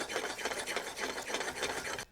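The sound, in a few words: beating omelet eggs with back of fork in skillet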